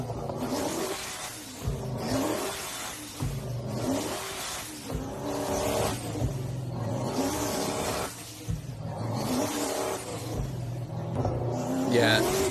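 An extremely loud performance car exhaust of roughly 1,100 to 1,200 horsepower revs hard in repeated surging bursts, each rising and falling in a rhythmic cycle, close and dominant with no clear talk.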